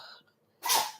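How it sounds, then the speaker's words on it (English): A single sharp, loud dog sneeze bursts out after a brief hush, preceded by faint background noise. "That's my dog sneezing."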